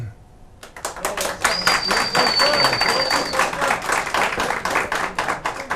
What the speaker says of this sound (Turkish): başkanları da e, böyle alkışladılar